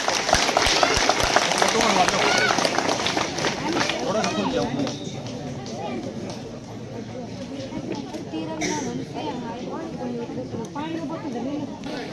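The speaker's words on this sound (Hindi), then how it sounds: "जोरदार तालियों से स्वागत साहब का।" A village welcome ceremony for a returning lieutenant draws steady crowd applause, loud at first and then thinning to scattered clapping, with voices chattering throughout.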